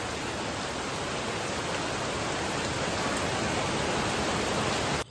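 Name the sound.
heavy rain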